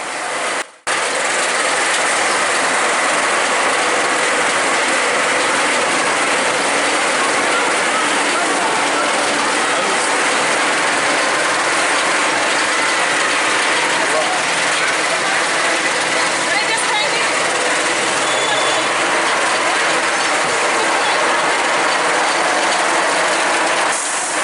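A hyper hybrid roller coaster at Cedar Point climbs its lift hill, a steady mechanical rattle and clatter of the chain and gears continuing for the whole stretch, loud and even against broad outdoor park noise.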